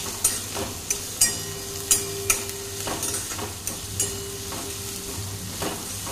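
Onions fry in a pan with salt, a steady low sizzle broken by a series of sharp clinks and scrapes as a spoon stirs them, close and moderately loud, with no talking.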